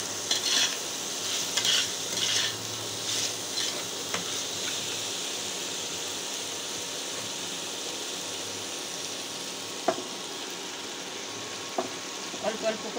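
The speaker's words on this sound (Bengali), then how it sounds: "এবার শাকটা দিয়ে দেবো।" Spinach added to a frying pan with eggplant already frying, a soft continuous sizzle with scattered stirring scrapes and clinks throughout.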